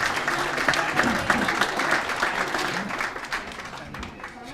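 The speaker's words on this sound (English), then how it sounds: "You should all give yourselves a round of applause." Dinner guests at a sports hall of fame induction dinner break into applause, a dense, continuous patter of many hands clapping with some murmured voices mixed in, gradually easing toward the end.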